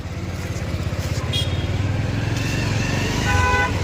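A motorcycle engine chugs steadily at close range while riding along Shivori road near Patan, Gujarat, with a faint horn toot in the background.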